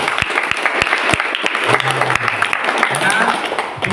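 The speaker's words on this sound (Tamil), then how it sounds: "எல்லாரும் சத்தமா 1 2 3 எல்லாம் கைத்தட்டு கொடுங்க." Loud applause from an audience at a Damodara month program at Amman Centre, dense clapping sustained throughout with a few sharper claps standing out and a voice briefly audible underneath.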